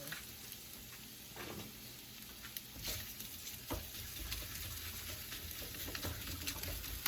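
Sweet potato lasagna filling sizzles and simmers steadily in a pan, a continuous frying hiss broken by a few scraping stirs, close and moderately loud with no talking.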